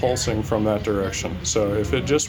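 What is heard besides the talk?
No everyday noise stands out behind the speech.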